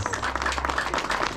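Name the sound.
applause at children's fishing championship award ceremony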